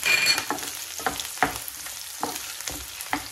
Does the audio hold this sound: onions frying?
yes